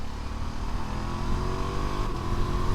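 Engine of a 2025 Ducati Multistrada V2S motorcycle pulling steadily on an open road, a continuous loud, rising drone with dense harmonics and wind rush throughout, no pauses.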